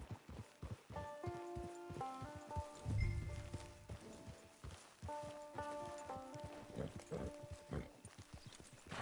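A horse ridden in Red Dead Redemption 2 clops along at a steady walking pace, moderately near, under music and background ambience with voices speaking.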